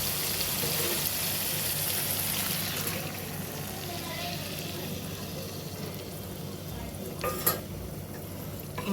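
Fish roe stir-frying in spiced oil, a dense steady sizzle with faint scraping and a brief clink near the end, moderately close, with a low murmur of background noise.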